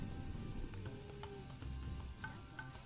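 Steady rain pattering onto water in the zoo-building game Planet Zoo, a continuous soft hiss with scattered droplet ticks, no voices.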